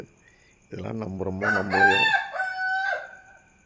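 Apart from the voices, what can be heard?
rooster crowing at dawn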